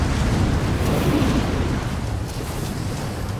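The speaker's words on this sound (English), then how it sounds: "This wind is crazy." Howling mountain wind near a snowy summit in the video game Rise of the Tomb Raider, a loud, continuous rushing roar with low rumble that barely changes over several seconds, with no speech.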